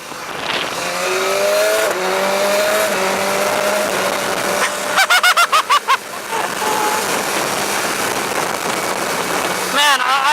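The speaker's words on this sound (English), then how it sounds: "engine sound of this bike is awesome. I love the sound of this bike." A BMW S1000XR motorcycle engine droning loudly at speed with a rising, steady note and heavy wind rush, briefly broken by a rapid series of sharp pulses midway and again near the end.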